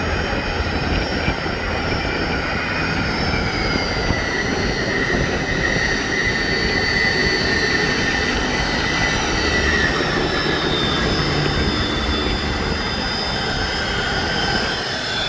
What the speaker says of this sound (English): hopefully you can still hear the plane